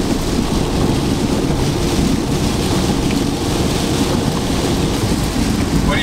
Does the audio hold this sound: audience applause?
no